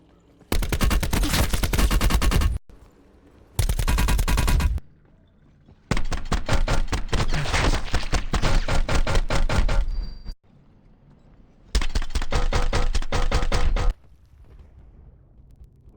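Weapons fire in the Call of Duty Blackout video game, loud sustained automatic bursts in four separate strings separated by short pauses, mixing muffled suppressed shots with sharper unsuppressed gunfire.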